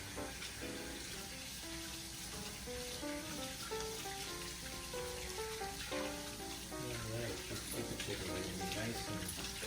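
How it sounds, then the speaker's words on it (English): Kitchen tap water runs in a steady hiss as hands are washed, layered under continuous background music and faint voices. "let me wash my hands"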